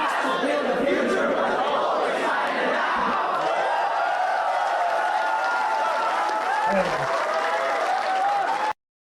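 A home crowd at a FlipTop rap battle in Mindanao roars and applauds in a dense, loud wash that holds steady for several seconds, with shouts and chatter mixed in before it cuts off abruptly.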